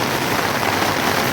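Heavy rain pours down in a dense, steady hiss that fills the whole moment, loud and close, with no voices.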